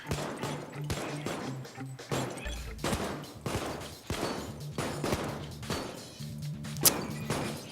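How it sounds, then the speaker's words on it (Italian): Rapid bursts of gunfire crack repeatedly over several seconds in the video game Payday 2, mixed with smashing impacts of bottles being shot and a low droning background. "Io sparo le bottiglie e tu cerca di coprirmi."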